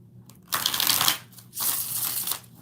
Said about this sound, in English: We gotta shuffle it 2 more times.